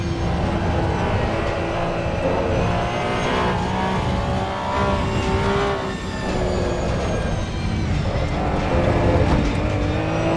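A Porsche 911 GT3 engine revs continuously in the Assetto Corsa EVO racing game at the Nordschleife, loud and close, rising and falling in pitch through gear changes and throttle shifts, with no talk over it.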